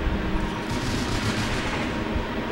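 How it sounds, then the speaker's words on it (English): Fireworks launch with a continuous loud crackling rumble in the video game Bioshock Infinite, a dense steady barrage with no pauses. "Dude, you just launched fireworks during the day."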